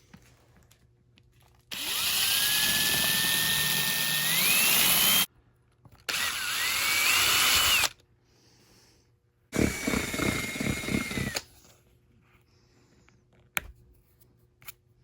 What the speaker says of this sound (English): I'm gonna use a 3/16 drill bit and just go through and run through each one of these holes